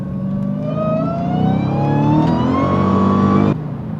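A Dodge Hellcat with a newly replaced supercharger accelerates while driving, its high whine climbing steadily in pitch over a throaty engine drone, loud and close, then cutting off abruptly near the end as the throttle lifts.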